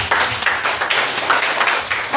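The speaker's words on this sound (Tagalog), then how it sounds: "another palakpak" A church congregation at a Sunday service claps and applauds together, a dense, loud, steady wash of hands that fills the whole moment before tapering slightly at the end.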